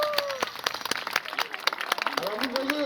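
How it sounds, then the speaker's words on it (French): Audience at a zoo sea lion show clapping for Porthos the sea lion, a burst of scattered hand claps under a presenter's voice, with a whistle-like tone toward the end. "Donc on peut applaudir Porthos, bravo!"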